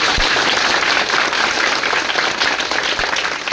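Children at a motivational session applaud loudly, a dense, steady wash of clapping that fills the whole stretch without a break and with no voices.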